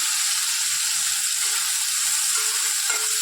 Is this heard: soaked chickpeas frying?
yes